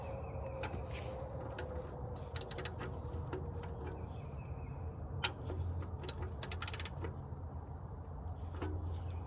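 A ratchet wrench clicks in short bursts while loosening the half-inch oil drain bolt on a 2007–2018 Jeep Wrangler, the sharp ratcheting close and fairly quiet, with no talking.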